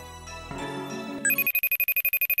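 A phone ringtone plays loud and close: a brief melodic electronic tune, then a fast series of regular, evenly pulsed high beeping rings.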